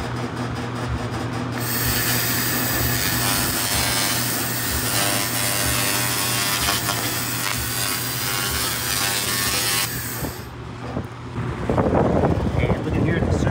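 A 2000W continuous wave laser cleaner working over steel, a loud steady buzzing hiss with a hum underneath that stops near the end, followed by handling noises.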